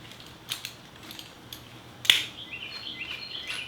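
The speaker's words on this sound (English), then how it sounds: "I'm just going to loosen this bolt here and just remove it entirely." Wrench work loosening and removing the fork top bolt on a 1985 Honda Shadow motorcycle: a few metallic clicks and clinks, one sharp louder clank, then faint high scraping as the bolt turns out.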